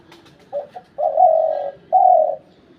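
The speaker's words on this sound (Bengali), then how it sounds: "গলাটাও খুব সুন্দর মোটা গলার পাখি" A deep-voiced decoy bird used for hunting calls clearly and close: two short clipped notes, then two long, resonant coos separated by a brief pause, alone in a quiet setting.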